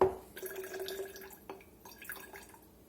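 Water from a tap runs into a marinade bottle already holding balsamic vinegar, a short trickling and dripping fill heard up close with no talk.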